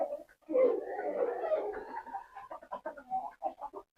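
Native and foreign chickens clucking and cooing in several short, uneven bursts at close range, with a denser stretch of overlapping calls early on and no voice heard.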